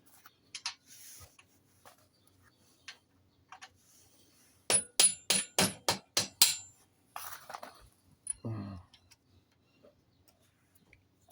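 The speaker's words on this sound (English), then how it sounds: "And so we're just going to tap that out." Sharp metallic hammer taps drive a part out of a Yamaha Roadstar 1600 motorcycle transfer case. A few scattered early taps lead into a quick close run of about eight strikes, then a couple of duller knocks.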